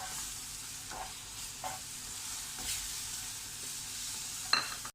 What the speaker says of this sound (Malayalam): പാൽ കുറേശ്ശായിട്ട് ഒഴിച്ച് കൊടുക്കുക.